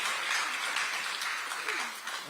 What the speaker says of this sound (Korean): 근데 저한테 왜 박수 한번 안 보내주십니까?